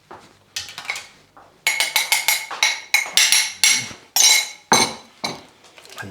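A spoon clinks and scrapes against a bowl as ricotta and icing sugar are mixed for a Sicilian cannoli filling. The strokes come as a close, brisk series of sharp taps, with no talking.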